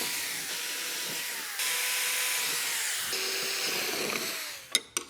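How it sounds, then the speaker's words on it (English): Power drill boring bolt holes in a wooden rolling platform for a courtroom stage set, a sustained whining motor that changes pitch in several runs, then winds down with a couple of short clunks at the end. "Go ahead and drill the rest of the holes."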